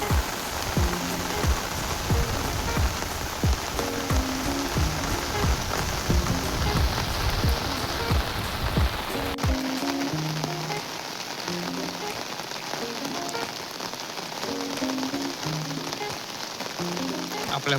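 Rain pours steadily at a reservoir dam during a fishing outing, a dense, even hiss of drops striking the surface, with scattered tonal sounds in the background.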